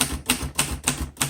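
Keystrikes on a 1948 Royal Quiet Deluxe portable typewriter land in a steady rhythm, about five crisp, sharp mechanical clacks in under a second and a half, close to the microphone with no voices.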